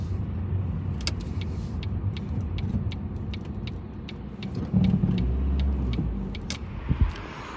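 A car pulling up on Castle Road: a low engine rumble and tyre noise that swell and then ease as the car slows. Sharp ticking clicks repeat throughout, and a short deeper thud comes near the end.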